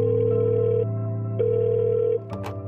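An outgoing phone call ringing in a Korean drama, a steady electronic ring tone sounding in two long pulses with a short gap, then cutting off.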